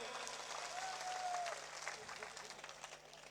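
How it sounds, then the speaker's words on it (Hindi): A crowd at a Rajasthan by-election political rally claps together, a faint, distant wash of applause that holds steady then thins out, with a voice calling out briefly near the start. "जोरदार तालियां बजाओ भाई"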